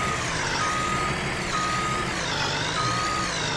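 Reversing alarm of a truck in Farming Simulator 19, a steady beeping held loud and close over a dense engine rumble for the whole stretch, with no talk.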